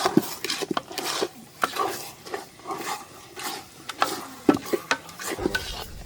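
Thick Christmas dodol being stirred in a pot over heat, with irregular scraping and sloshing strokes, soft sizzling from the oil underneath, and occasional clinks of the utensil against the metal.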